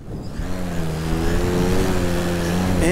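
Electric paramotor motor running up at takeoff, a loud steady whine with rising and falling harmonic tones that climb toward the end, continuous and close throughout.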